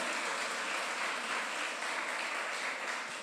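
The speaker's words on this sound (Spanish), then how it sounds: "Dele un aplauso al Señor" A church congregation applauds during a sermon, giving steady, sustained applause from a crowd of many hands with no speech over it.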